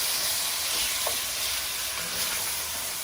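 Pork stew pieces fry with onions and garlic for a Burmese pumpkin pork stew, giving a steady, close, loud sizzle with a faint hiss of steam throughout and no talking.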